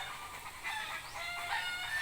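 Chickens clucking with a rooster crowing at a poultry farm in a bamboo-forest setting, several birds calling continuously at moderate distance over a constant background, no talking.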